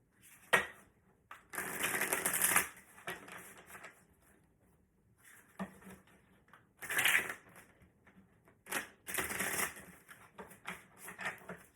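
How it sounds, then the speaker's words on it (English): Tarot cards being shuffled in repeated riffling bursts of papery rustle and flicking, close and fairly loud, separated by short pauses. "what does the tarot cards have to say for Aquarius is July?"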